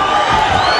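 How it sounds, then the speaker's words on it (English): A boxing crowd cheers loudly through a 2003 bout between Rolando Reyes and Omar Bernal, a dense steady roar of many voices as the two fighters trade punches near the finish. "The crowd cheering as these two guys come to the finish, trading punches, throwing leather."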